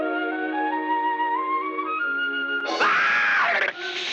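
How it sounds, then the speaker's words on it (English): A cartoon cat from the 1944 Looney Tunes short Brother Brat lets out a long wavering scream, with a strained vocal squeal near the end, loud and alone. "the cat then notices Butch and does a hilarious scream"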